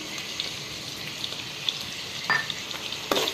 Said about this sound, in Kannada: ಆಮೇಲೆ ಇದನ್ನ ಸರಿಯಾಗಿ ಫ್ರೈ ಮಾಡ್ಕೋರಿ